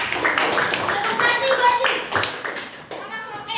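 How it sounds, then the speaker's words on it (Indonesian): Classroom group applauding a team of students, with dense overlapping hand claps and taps throughout, mixed with children's voices talking over the clapping. "Tepuk tangan dulu untuk kelompok 1"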